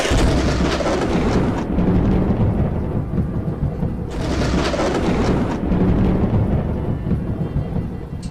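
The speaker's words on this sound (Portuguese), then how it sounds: "7 thunders uttered their voice" Two long rolls of loud thunder rumble in a storm, each a deep swelling boom that fades out, with rain hissing steadily between them.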